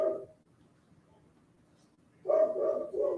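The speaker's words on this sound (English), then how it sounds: "The barking." A dog barks a few times at moderate distance, one bark at the start, then a quick cluster of barks after a quiet pause.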